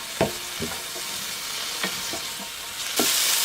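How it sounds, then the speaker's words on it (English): Chili frying in a pan for a vegan lotus root and bitter melon dish: a continuous close sizzle broken by a few sharp scraping or stirring hits, swelling louder near the end. "Just let it fry in there."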